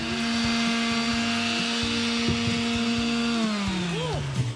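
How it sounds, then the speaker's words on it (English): Electric sander smoothing the rough ends of wooden blocks for an outdoor piece, a loud close whine holding steady and then winding down in pitch at the end, with no talking. "we're gonna do that with an electric sander"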